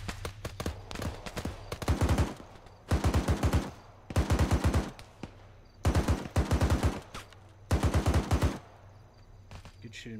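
Automatic weapon fire in the military simulation game Arma, five loud sustained bursts of rapid shots separated by short pauses, over a low background hum.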